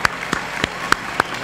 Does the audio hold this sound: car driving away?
no